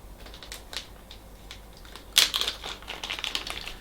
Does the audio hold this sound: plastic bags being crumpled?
yes